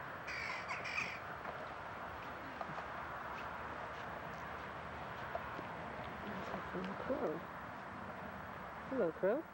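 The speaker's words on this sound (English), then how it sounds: "Hello, crow." A crow caws in open ground by the Station Stone at Stonehenge, a few rough calls loudest at the end, with a person talking and light movement in the background.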